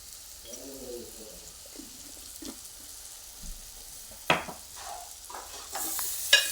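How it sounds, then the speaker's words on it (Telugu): Turmeric gets stirred into a pot of frying ingredients for Odhiyala pulusu, giving a quiet sizzle with intermittent scraping stirs. The stirring grows louder and more frequent toward the end, and a faint voice murmurs early on. "పసుపు వేసి కలపాలి"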